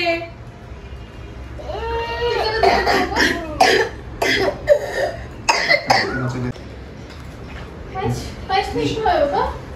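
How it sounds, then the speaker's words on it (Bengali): Several harsh coughs come in short bursts, partly mixed with people talking nearby, then the coughing fades into more talk. "কাশি হচ্ছে"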